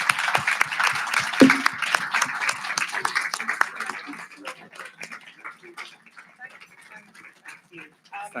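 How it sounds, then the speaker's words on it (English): Conference audience at a North East event applauds a woman named Ruth, crisp clapping that thins out after a few seconds while voices and other sounds mix in. "Give Ruth a round of applause, please."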